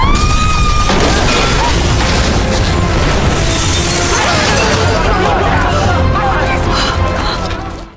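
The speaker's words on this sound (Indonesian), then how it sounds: "Lalu, ledakan pun terjadi." A loud explosion bursts in, followed by crashing debris and a sustained roaring rumble that fades away at the end.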